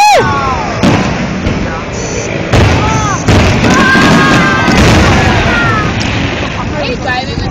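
Fireworks burst loudly and repeatedly while excited voices shout and cheer close by, with whistling trails and sharp booms overlapping the chatter.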